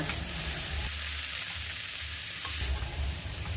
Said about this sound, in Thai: พอน้ำมันร้อนเราก็ใส่เบคอนลงในกระทะนะคะ